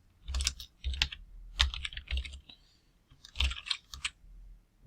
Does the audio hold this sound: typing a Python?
yes